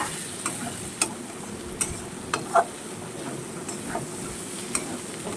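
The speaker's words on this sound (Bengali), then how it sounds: "এটাকে ভালো করে এখন আমি নাড়াচাড়া দিয়ে নেব।" A pot of dal cooking with meat simmers under a constant low sizzle, while a stirring spoon scrapes and taps in sparse, irregular knocks close by.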